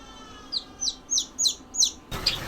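A run of five short, high chirps from a Golden Sebright chick with fully black legs at a steady pace, fairly close, followed by a brief burst of noise and one more chirp.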